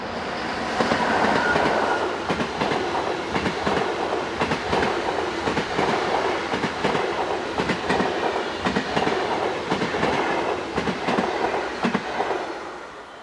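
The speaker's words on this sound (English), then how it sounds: "Exiting the tunnel just west of Aarau station platforms is 460088 on a service bound for Zurich." Swiss locomotive 460088 hauls a Zurich-bound train out of a tunnel near Aarau station, a loud, close, continuous rumble with rhythmic wheel clatter across the rail joints that fades slightly at the end. No one speaks.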